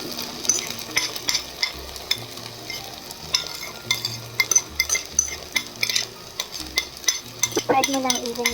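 Egg-coated okonomiyaki batter sizzles in an oiled pan while a utensil stirs and spreads it, with repeated scraping and clinking over a steady frying hiss and no talking.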